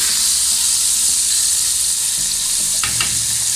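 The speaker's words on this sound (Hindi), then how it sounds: "फ़िश ये पलट रहे हैं, ये डीप फ्राई हो रही है" Marinated fish deep-fries in hot oil with a loud, dense, continuous sizzle up close, plus a short burst of crackling as the pieces are turned near the end.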